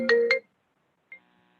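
A phone rings for an incoming call during an online committee meeting, with two quick electronic tone bursts followed after a pause by a brief fainter chime.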